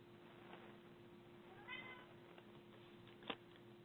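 A house cat meows once softly during a quiet online belly dance club call, faint and distant over a steady electrical hum, with a small click near the end.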